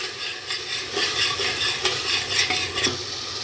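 Chopped tomato with masala and yogurt cooks in a pan for a suran (yam) curry, giving a steady close sizzle and hiss with soft stirring scrapes throughout, no voices.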